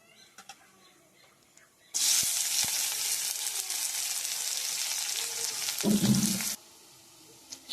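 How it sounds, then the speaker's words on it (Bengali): Whole cumin seeds, dried chillies and bay leaves hit hot oil with a sudden loud sizzle that crackles steadily for several seconds, then cuts off abruptly. "তেলে গোটা জিরে, শুকনো লঙ্কা, তেজপাতা ফোড়ন দিলাম।"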